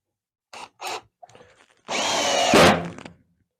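A Hart HPID01VN 20V cordless drill set to drill mode drives a screw: a few short bursts, then one sustained loud whirring run of about a second, close up with no talking.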